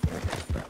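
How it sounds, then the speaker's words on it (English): A heavy Shire horse's hooves clip-clop in a quick run of close, distinct thuds in the video game Red Dead Redemption 2, about four steps in under a second. "the Shire horse here is a heavy horse"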